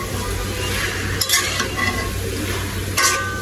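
Greens hit hot oil in a pan for a dish cooked with dried fish, sizzling loudly and continuously up close while a utensil scrapes and stirs them.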